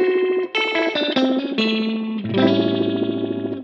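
An electric guitar runs through an All Pedal Macrodose envelope filter with the warp control set high, giving a string of short, extreme warbling notes with a chorus-like swirl. It sounds loud and close, with no talking.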